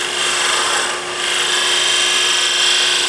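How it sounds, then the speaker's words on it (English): An R2 cutter on a self-powered sander doing fine scraping on the side of a workpiece, a steady close rasping hiss that dips briefly and resumes, with no talking. "Do a little fine scraping"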